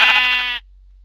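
One sheep in the Minecraft video game gives a single loud, close bleat lasting about half a second, and silence follows it.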